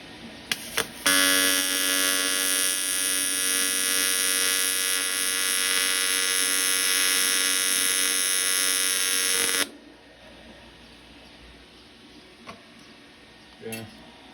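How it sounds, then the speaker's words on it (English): A TIG welder runs along a seam on a steel practice kit, giving a steady, loud electric buzz with a fixed tone for about nine seconds before cutting off, followed by faint clicks and handling sounds. "We'll continue to work our way down the seam"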